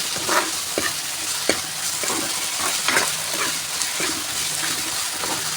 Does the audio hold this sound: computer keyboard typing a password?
no